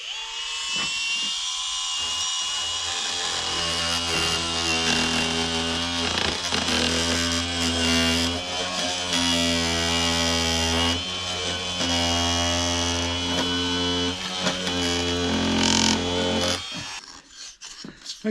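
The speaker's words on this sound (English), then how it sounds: "so it's now a task with the scraper" A scraper works over corroded aluminium window frames from a Contessa 26 sailboat, making a continuous, loud, close rasping scrape with a strong steady humming drone under it and no talk.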